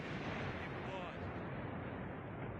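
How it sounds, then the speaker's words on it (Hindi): Explosions from a Russian kamikaze drone attack near Kryvyi Rih, close to the Ukrainian president's home, form a loud, continuous rumbling roar of booms with no quiet gaps, and a voice may be faintly mixed in. "ज़ेलेंस्की के घर के पास 20 से ज्यादा धमाके हुए हैं।"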